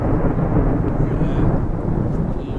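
Thunder from a storm over an RV park rolls as a loud, steady, low rumble with rain noise throughout and no clear talk over it.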